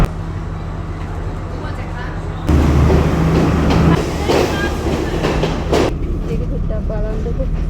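A passenger train runs from Kandy to Hatton in Sri Lanka, giving a steady low rumble and rattle that swells louder partway through, with voices talking over it.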